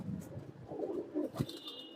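Pigeons, including hens in a loft, give soft low cooing, faint and close, with a brief rustle near the end.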